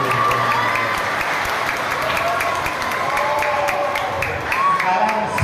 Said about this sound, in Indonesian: Tepuk tangan ibu.